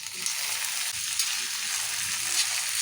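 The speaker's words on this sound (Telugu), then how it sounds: "ఇక నూనెలో మంచిగా ఉడికించుకోవాలి," Green chillies, onion and tomato frying in oil in a pan, a steady close hiss and sizzle that holds constant throughout, with faint stirring scrapes underneath.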